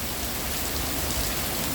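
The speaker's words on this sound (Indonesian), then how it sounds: "Hari ini hujan cukup lebat." Heavy rain pours steadily and loudly onto surfaces nearby, a dense unbroken wash of drops with no voices.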